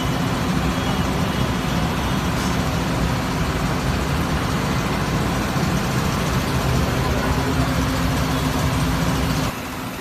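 A diesel generator set runs under full load, giving a dense, steady, loud mechanical drone that holds unchanged for the whole stretch before dropping slightly at the very end.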